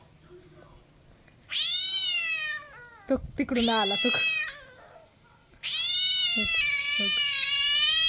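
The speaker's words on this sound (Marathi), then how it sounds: "मांजर वरडायला लागलं" A cat meows loudly several times, long drawn-out cries, with a person speaking briefly between them.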